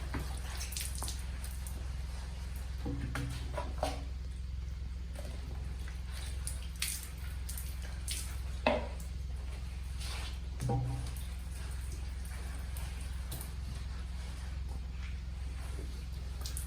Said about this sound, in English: Finally, we're going to douse it with water again. Clean the neutralizing solution off.